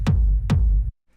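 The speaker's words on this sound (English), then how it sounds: "we have this kick, which is just playing constant quarter notes" Two heavy techno kick drum hits in a steady quarter-note pulse, each a deep punchy thump with a short decaying tail, loud and upfront before cutting to silence.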